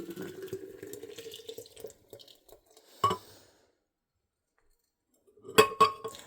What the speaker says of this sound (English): So I transfer this into a mason jar.